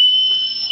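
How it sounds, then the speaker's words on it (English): A toy Wienermobile wiener whistle blown once, a short, loud, shrill steady tone held for under a second, close by with nothing else around it. "I blew the Wiener whistle."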